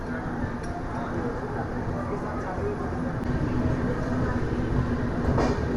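A Nanded to Tirupati special passenger train runs along with a loud, steady rumble and faint rhythmic clatter, heard from inside the carriage, with a background voice now and then.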